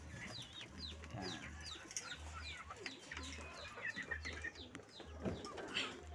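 Stock chickens in breeder cages cluck and call in quick overlapping bursts, faint and somewhat distant, over a low steady background hum.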